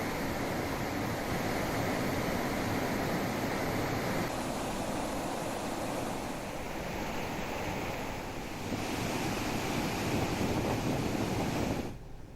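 Water released from the Sharda canal rushes in a strong, continuous torrent, a loud broadband roar with wind buffeting the microphone, steady throughout and cutting off abruptly near the end.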